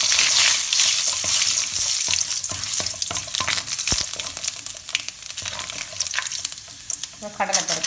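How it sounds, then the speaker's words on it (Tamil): Mustard seeds and urad dal crackle and sizzle in hot oil in a pan, loud and close, with steady frying broken by sharp popping bursts and a brief stir near the end; no talk. "பாருங்க, சட்டி வச்சு எண்ணெய் சூடு ஏறிட்டுது. நான் இதுக்கு இப்போ கடுகை போடுறேன்."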